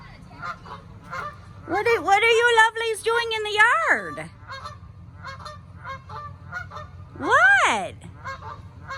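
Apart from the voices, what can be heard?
geese honking in a yard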